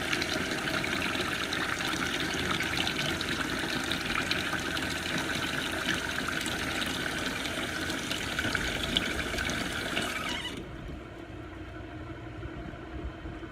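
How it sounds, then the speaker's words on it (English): Hot water from a kitchen tap pours into a container, a steady close gushing rush that holds for about ten seconds before the flow stops and leaves faint background noise. "So I've got this filled up with hot water"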